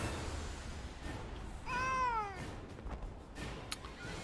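A single drawn-out cat meow rises and falls near the middle, moderately close over a hissy room background.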